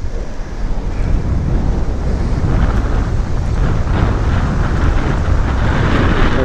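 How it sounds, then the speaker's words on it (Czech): Strong wind buffeting a microphone during a motorcycle ride, a loud, continuous broadband roar with gusty swells and no voices. "No na to, že vítr měl ustupovat, tak absolutně neustupuje, a naopak jako zesiluje."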